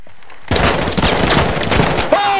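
A dense volley of gunfire in Call of Duty Modern Warfare 2, a loud continuous crackling barrage lasting about two seconds, with a voice cutting in briefly.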